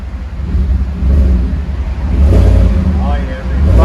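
A 2018 GMC Sierra Z71 with a 5.3L V8 and Flowmaster 40 exhaust rumbles close by in a deep, steady drone that swells twice as the throttle is blipped, with talk over it.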